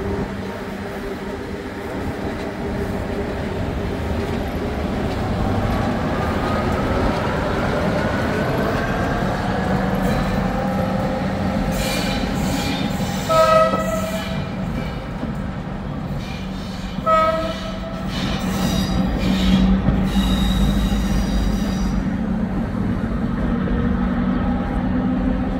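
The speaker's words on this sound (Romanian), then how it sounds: "Pleacă și trenul nostru către" A passenger train pulls out of Vatra Dornei Băi station in Romania, bound for Ilva Mică, its engine drone rising steadily under a faint hum and rumble, with two short horn blasts partway through and no talk.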